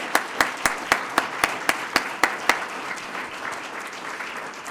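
Audience at a police swearing-in ceremony gives a round of applause: about a dozen sharp, evenly spaced claps stand out at first over a steady wash of crowd clapping, which carries on more evenly to the end.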